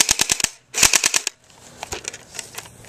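A GSG5 airsoft gun fires on full auto in two quick, loud, rapid bursts of sharp mechanical clicks close by, followed by fainter scattered clicking and handling.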